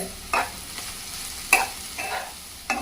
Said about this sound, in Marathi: यामध्ये आता आपण एक वाटी चिरलेला कोबी परतून घेऊयात